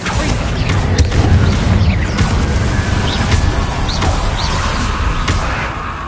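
Explosive spells go off in a fantasy video game, sharp blasts and crashes stacked over a dense, rumbling low-end din, with several distinct hits punctuating the steady loud battle noise.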